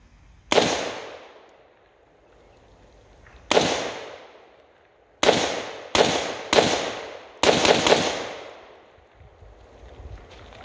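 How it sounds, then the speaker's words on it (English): An AR47 rifle chambered in 7.62x39 with a Davidson Defence upper fires Wolf ammunition outdoors: seven sharp, loud reports, spaced at first and then in a quicker cluster, each ringing out and fading, with no speech. "Got a few more rounds of the wolf ammo I'm gonna put through the magazine."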